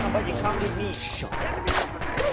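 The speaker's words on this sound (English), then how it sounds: "Enemy fire!" Gunfire in the WWII shooter Red Orchestra 2: Heroes of Stalingrad, with dense, continuous rattling shots and sharper bursts over a busy battlefield din, voices mixed in.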